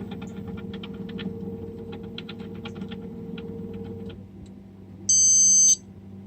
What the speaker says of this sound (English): We have this alarm to remind them that's what's to happen.